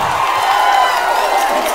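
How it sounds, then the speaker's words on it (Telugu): A large political rally crowd in Rajampet clapping and cheering, a dense, loud, continuous roar of applause and shouts filling the whole moment. "జగన్మోహన్ రెడ్డి నాటకాలు ఆపమని గట్టిగా చప్పట్లు కూడా చెప్పండి."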